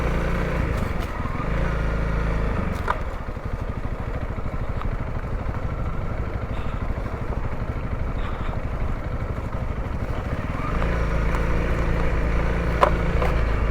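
A Honda CRF300L dual sport motorcycle ridden along a flat road, its engine droning steadily up close with shifts in pitch and a rougher throttle surge near the start and end, no talk.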